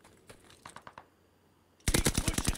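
Gunfire in the video game Call of Duty: Vanguard: a few scattered single shots first, then after a brief pause a loud, rapid automatic burst of closely spaced cracks to the end.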